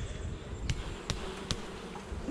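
Honey bees swarming at a home hive in April, a steady dense insect buzz that stays up close and fills the whole stretch, broken by a few brief sharp clicks and taps.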